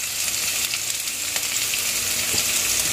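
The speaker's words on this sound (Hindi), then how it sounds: "थोड़ी सी हींग, और उसमें डालेंगे हम अदरक लहसुन का पेस्ट जो हमने बनाया है मसाला" Ginger garlic paste and asafoetida, added with cumin, sizzle and crackle steadily in hot oil in a home kitchen, with no voices over the frying.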